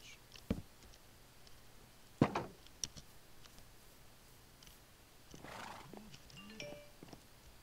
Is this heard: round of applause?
no